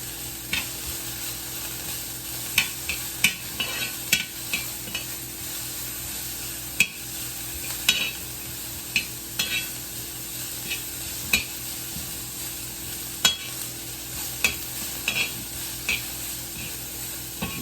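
Butter sizzles steadily in a pan, with faint stirring scrapes and occasional small clicks and pops throughout, heard alone with no talk.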